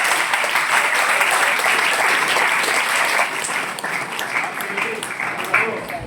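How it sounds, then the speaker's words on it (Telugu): Schoolchildren in a high school meditation class burst into a big round of applause, sustained loud clapping for about six seconds that eases slightly midway, with some voices mixed in. "Big clap."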